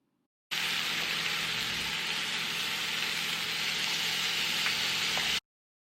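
King oyster mushroom slices seasoned as vegan scallops sizzle steadily in a pan, a dense, even frying hiss that holds at constant loudness from start to finish with no talk over it.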